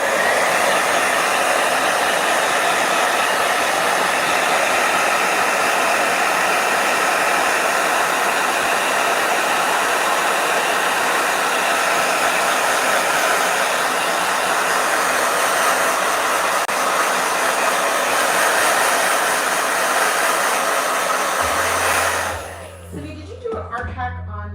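A blow dryer roars steadily at close range with a broad, constant hiss, then cuts off abruptly near the end, leaving a faint low hum.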